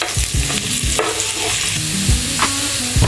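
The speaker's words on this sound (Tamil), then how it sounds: "இந்த வெங்காயம் நல்லா வதங்கட்டும்." Onions sautéing in a pan for prawn rice, loud and close: a bright continuous sizzle with frequent scraping, stirring strokes and knocks of a utensil against the pan, no speech.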